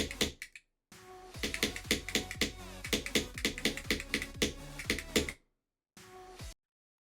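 Keys on a SayoDevice keypad click in a quick, irregular run of sharp, close presses, then stop and resume for a brief burst after a short silence.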